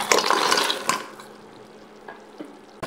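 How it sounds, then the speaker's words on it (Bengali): Khurma, crisp fried dough snacks, being stirred in thick sugar syrup in a pan, giving a brief burst of close scraping and sticky tumbling, then quieter intermittent scrapes. "এগুলোকে ভালোভাবে নেড়ে চেড়ে নেব।"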